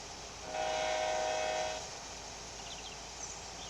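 A Washington and Western passenger train in Train Sim Pro USA pulling slowly out of Tacoma Station, its horn sounding one steady, fairly loud blast for about a second, then fading into a low rumbling ambience with faint high squeals.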